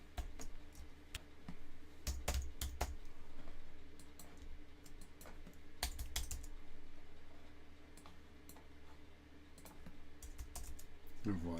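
Computer keyboard typing in Adobe InDesign, steady clusters of light key clicks with brief pauses, fairly close, heard over a faint background hum with no talking.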